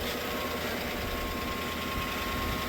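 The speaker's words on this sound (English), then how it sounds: "The lifters sound like they tick. It takes a little while for the oil to go through them." A replacement engine idling in a GMC Sierra 1500 pickup, its lifters ticking: a close, steady, dense mechanical drone with a fast tick running through it, no pauses and no speech.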